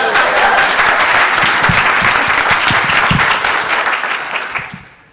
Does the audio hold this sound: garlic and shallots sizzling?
no